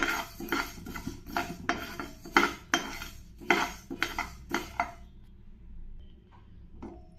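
Coriander seeds are dry-roasted over medium flame, a spatula scraping and clinking against the pan in regular close strokes for about five seconds before falling quiet.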